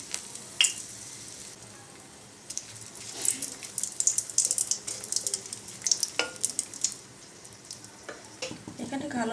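Two dried red chilies and a bay leaf dropped into hot oil, a close crackling sizzle with sharp spits and pops that build and come in bursts.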